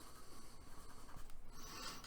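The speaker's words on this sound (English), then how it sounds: "I like to put a little bit of pencil down and just kind of use my finger" Pencil shading on paper is blended with a fingertip while a human face is drawn: faint, soft, continuous rubbing and scratching strokes heard close and alone, in a quiet, even rhythm.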